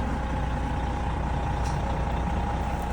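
A bus being delivered, manoeuvring near a driveway, its engine giving a steady, close low rumble with a faint airy hiss partway through.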